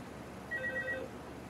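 A telephone rings in the Five Nights at Freddy's 2 video game, a short burst of four quick electronic trills, fairly faint against a quiet background hum.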